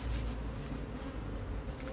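A honey bee swarm being transferred into a hive, a dense continuous buzzing drone at steady low level with no voices.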